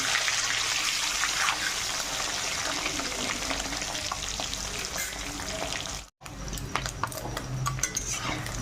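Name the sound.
eggs frying in oil, being flipped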